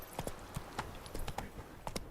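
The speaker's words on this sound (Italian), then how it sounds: "qualche scampagnata anche a cavallo" A horse gallops along in The Witcher 3: Blood and Wine, its hooves striking in quick, uneven clip-clop beats, close and fairly faint, with no talk.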